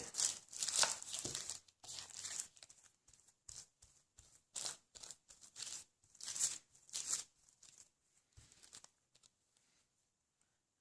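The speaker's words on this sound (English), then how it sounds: "Let's wipe off our Ziploc bag so we can use it again." Quiet crinkling and rubbing as a plastic Ziploc bag is wiped, short bursts of soft swishes in an irregular series that fade toward the end.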